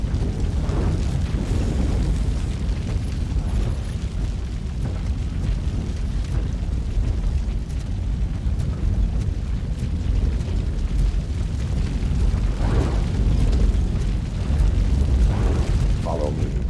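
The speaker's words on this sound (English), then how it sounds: "Fire is blocking the way." Fire burns and blocks the path in the Robocop Rogue City video game, a continuous low, rumbling roar that persists throughout with occasional voices over it.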